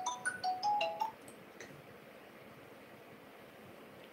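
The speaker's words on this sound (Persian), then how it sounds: "تلفن" A telephone rings with a short melodic ringtone, a few bright tones in the first second, then only faint background hiss.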